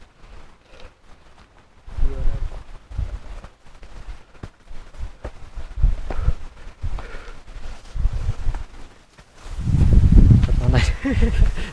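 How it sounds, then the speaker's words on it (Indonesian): Strong wind gusts through a dense bamboo forest on a steep trail up Mount Manglayang, rumbling against the microphone in waves and swelling loudly near the end, with a person talking throughout. "Tuh hutan bambunya tuh, rimbun banget hutan bambunya, dan anginnya lagi kencang banget"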